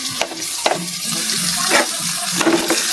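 Paste of ground cumin, onion, ginger and garlic, made on a grinding stone, frying in a pan for beef curry, a steady sizzle broken by several sharp stirring scrapes and spits, close and with no talk.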